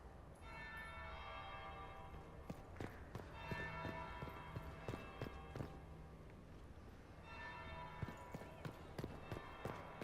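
A large bell tolls repeatedly in Dragon Age Inquisition, with rich ringing overtones sustained under rhythmic clattering footsteps or hoofbeats through the whole stretch.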